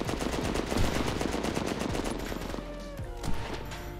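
Machine gun fire in the military shooter game H-Hour: World's Elite: dense, rapid overlapping bursts of automatic fire, fairly close and continuous, easing slightly toward the end with a few sharper cracks.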